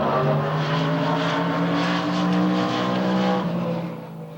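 A 650-horsepower Chevy Lumina stock car accelerates hard out of a corner at Portland Speedway, its engine a loud, steady, close roar with strong harmonics that holds for several seconds, then eases slightly at the end.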